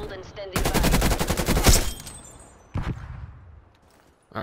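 Gunfire from a Krig 6 rifle in the video game Call of Duty Cold War: a loud, rapid automatic burst lasting over a second, then a shorter burst and a trailing shot.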